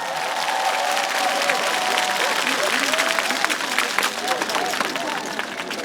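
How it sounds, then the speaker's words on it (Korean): A concert audience claps for a trot singer at an outdoor sports festival on Jaraseom island in Gapyeong. The applause is dense and sustained, with crowd murmur and a few voices mixed in beneath it. "많이 박수 쳐주시면 감사하겠습니다"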